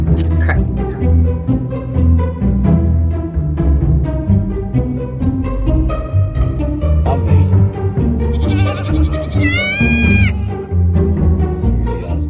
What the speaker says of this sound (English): That little goat was so cute.